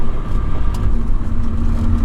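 A deep, rumbling 1993 Dodge Cummins W250 turbo diesel pickup engine idles and pulls steadily, loud and close, with a constant low drone throughout.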